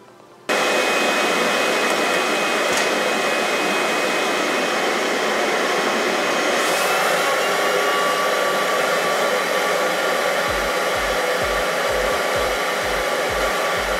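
A household vacuum cleaner hooked to a homemade vacuum former drones loudly and steadily under a plastic-molding frame. The roar begins abruptly after a brief quiet start and holds unbroken, with faint rhythmic thumps near the end.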